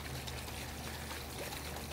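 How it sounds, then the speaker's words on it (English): A jar of salt and isopropyl alcohol is shaken by hand, giving a steady, close sloshing and rattling rush of liquid and grains that continues evenly throughout, with no speech. "and then you shake this jar like this"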